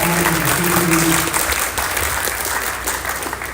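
An audience at a high school 12th grade orientation applauds, a dense burst of clapping from a crowd that holds steady and loud for a few seconds with a voice briefly underneath at the start.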